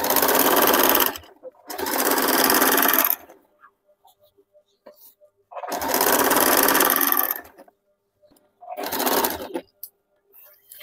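A sewing machine sews a petticoat seam in loud, close bursts of rapid stitching, four runs of a second or two each, separated by quiet pauses filled with faint clicks and fabric handling.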